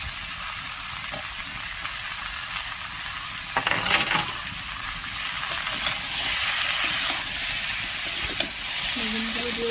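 Cut eggplant pieces frying in a pan for a mixed vegetable curry, a steady close sizzle and hiss running throughout with occasional stirring clatter.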